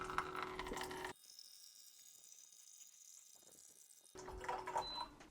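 A SimPure Y7P-BW countertop UV reverse osmosis filter dispensing a 15-ounce serving of water, a steady pump hum with flowing water that starts abruptly, runs for about three seconds, then stops, with louder handling noise before and after.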